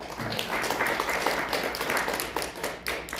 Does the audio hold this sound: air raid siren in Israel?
no